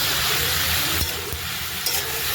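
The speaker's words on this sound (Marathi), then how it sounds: "कोथिंबीर टाकली स्वच्छ धुवून. तिला पण हलवून घेते चांगलं." Loud, dense sizzle of chicken masala frying in a pan as washed coriander is stirred in, with a couple of brief spatula scrapes, close and continuous.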